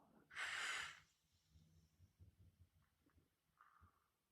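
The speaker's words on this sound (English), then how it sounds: "Slowly exhale." A single breath pushed out through the nose in a short rushing burst, close and soft, followed by quiet faint breathing and low body sounds in an otherwise silent room.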